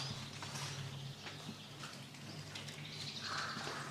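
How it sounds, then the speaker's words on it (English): Birds chirp in the brick-floored porch of a church, giving short, bright calls scattered through a quiet, faint background hum. "There's birds flying in here."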